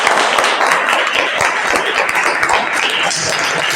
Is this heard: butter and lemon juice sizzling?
no